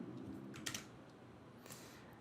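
Ctrl Enter is pressed on a computer keyboard while editing a LaTeX exercise list in Overleaf, giving a couple of soft close key clicks over a quiet room hum.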